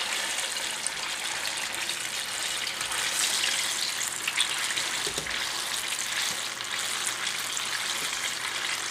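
Steady broadband sizzling and crackling of banana lumpia (turon) rolls frying in hot oil, continuous and fairly loud, with small pops scattered throughout.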